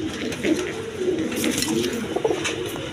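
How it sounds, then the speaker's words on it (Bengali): A pair of Giribaz pigeons coo steadily in repeated low, throaty phrases, close and fairly loud, with no talking over them. "দর্শক এখানে এক জোড়া গিরিবাজ কবুতর আছে দেখেন"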